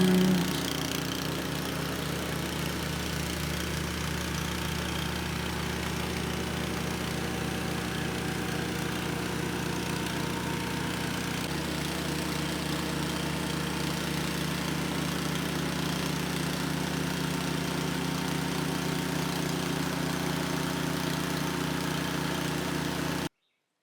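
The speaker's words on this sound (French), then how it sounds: "Et c'est donc là qu'on apprécie d'avoir le petit tracteur avec nous" A small tractor engine runs steadily at a constant pace, its low throbbing hum continuous and fairly close, with a slight shift in tone about halfway through.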